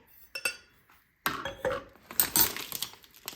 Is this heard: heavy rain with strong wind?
no